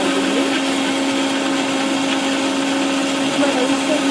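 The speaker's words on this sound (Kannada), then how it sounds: "ಇನ್ನು ನೆಕ್ಸ್ಟ್ ಆರಿ ಆದಮೇಲೆ ಅದನ್ನು ಮಿಕ್ಸಿ ಮಾಡ್ಕೊಳ್ತೀನಿ" A mixer grinder blending tomato masala whirs steadily at a loud, constant pitch, running without pause.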